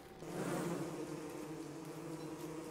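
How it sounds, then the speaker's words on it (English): Bees buzz in the video game Don't Starve Together, a steady droning hum that swells in at the start and holds close and even, with no talk. "Leave me alone, bees!"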